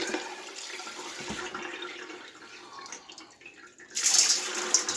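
Running water rinses grit and sludge out of a rock tumbler barrel, a steady close splashing wash that swells louder and brighter near the end, with no talking.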